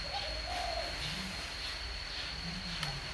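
A caged spotted dove coos nearby in soft, low, rolling phrases, a few repeated calls spread over a few seconds against a steady hiss of background noise.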